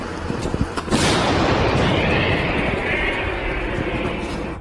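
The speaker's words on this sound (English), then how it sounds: "The Ukrainian-made Bodana cannon is in operation." A Ukrainian-made Bohdana self-propelled cannon fires on a battlefield with a loud sharp blast followed by a long rolling, rumbling roar that slowly decays; a few smaller thuds precede it.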